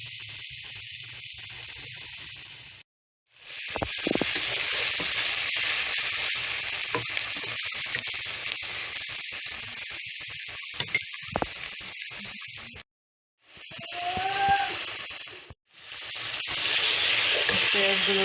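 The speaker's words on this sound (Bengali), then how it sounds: "ইলিশ মাছের ডিম রান্নার জন্য কাঁচামরিচ, পেঁয়াজ এবং তেল দিয়ে দিলাম। পেঁয়াজগুলোকে ভালোভাবে কষিয়ে নিতেছি।" Onions and green chilies fry in hot oil for hilsa fish egg curry, a loud, close sizzle with stirring scrapes, broken by two brief silent gaps.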